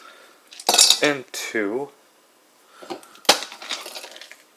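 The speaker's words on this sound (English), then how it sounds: "First thing you gotta do is you put the ice cubes" Ice cubes drop into a mug in two quick bursts of hard clattering and clinking, followed later by a louder single clunk and rattle, close and crisp with a brief spoken word between.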